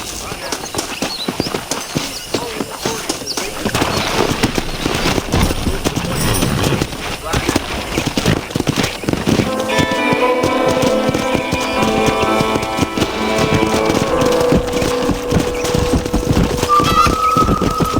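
Steady clip-clop of horse hooves trotting in the video game Red Dead Redemption, with talk over it and music swelling in later; an occasional whinny.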